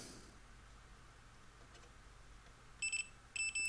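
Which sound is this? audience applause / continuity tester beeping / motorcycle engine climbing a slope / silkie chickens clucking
continuity tester beeping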